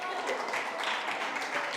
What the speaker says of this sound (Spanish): Un aplauso para Taito.